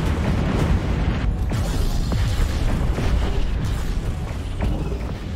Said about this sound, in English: Oh my god, what a massive explosion.